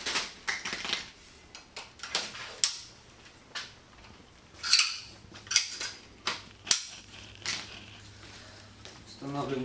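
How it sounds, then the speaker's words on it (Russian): Plastic connectors snap into place on the roof frame of a honey extraction tent, a series of sharp, irregular clicks and clacks, close by, mixed with handling noise and someone talking. "Устанавливаем до щелчка."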